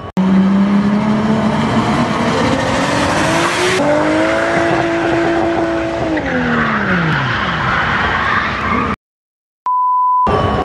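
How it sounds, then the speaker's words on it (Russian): A tuned car drifts in Chelyabinsk before hitting the wall of an entertainment complex: a loud, sustained tire squeal with rising and falling engine tones, then a sudden brief silence and a short steady beep. "Аварийный дрифт попал в объектив квадрокоптера."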